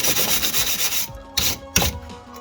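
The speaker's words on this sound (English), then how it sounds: "Let's wipe off the old grease. In fact, where's my wire brush?" Old grease being scrubbed off a wheel with a wire brush, a steady close rasping scrub that breaks into two shorter strokes, with no talk.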